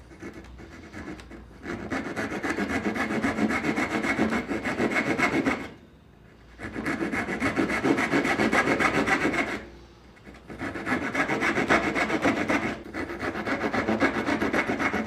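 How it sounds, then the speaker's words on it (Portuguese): A handsaw cuts through wood for a dovetail joint in three long bursts of steady back-and-forth rasping strokes, separated by short pauses, close and fairly loud. "eu vou com o serrote"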